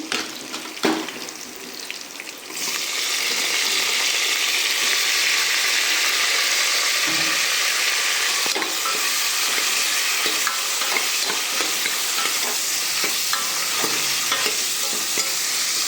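Drumsticks (moringa pods) frying and being stirred in a pan for sambar: a steady loud sizzle runs throughout after a quieter start, with repeated scraping and clinking stir strokes, no talk.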